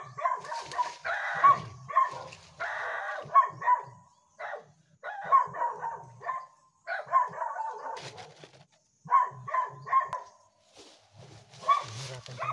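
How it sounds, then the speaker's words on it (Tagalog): Several dogs bark repeatedly at a property, bursts of sharp barks and yips coming in clusters with brief pauses, fairly close, with some whimpering mixed in. "May mga aso."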